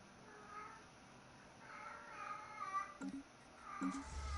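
A cat cries out in a room with a video game playing, giving several drawn-out meows and wails, faint and at a distance, with a few soft thumps near the end.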